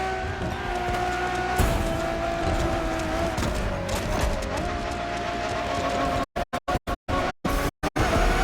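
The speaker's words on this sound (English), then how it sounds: "this car sounds pretty clean and nice" Ferrari Enzo supercar engine in The Crew Motorfest racing game, a steady smooth drone with rising and falling pitch, then chopped into short bursts by abrupt silent gaps near the end.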